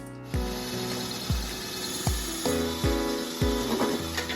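Wood being chiseled to cut a notch: six sharp mallet-on-chisel knocks spaced roughly evenly, each a close thud with a short ringing tail over a faint background hum, no voices.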